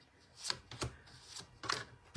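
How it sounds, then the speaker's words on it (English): Oracle cards being shuffled by hand in a quiet room, heard as several soft, brief papery riffling bursts spaced irregularly, with no talking. "I want to shuffle these"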